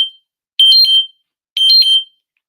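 A phone alarm sounds loud and close: two short bursts of electronic beeping tones, spaced about a second apart, with silence between them.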